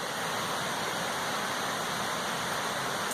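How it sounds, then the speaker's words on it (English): Steady, moderately loud rush of a creek flowing beside a stealth campsite on the Appalachian Trail, a continuous even wash of water with no voices. "I'm currently stealth camped right by a gorgeous creek, river, whatever you want to call it."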